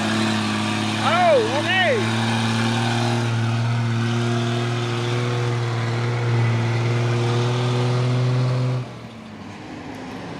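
Trucks on an Indonesian road, including a Hino Lohan tronton and a convoy of palm-oil trucks, rumble past with a steady low engine drone for about nine seconds, a brief tonal horn-like whoop early on, before the noise suddenly drops away; a voice speaks briefly.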